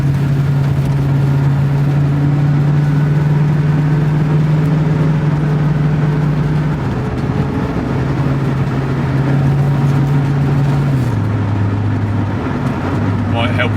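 A 1966 Ford Mustang GT with an automatic gearbox held in low gear, its engine humming steadily from inside the car and dropping in pitch twice, with someone talking over it.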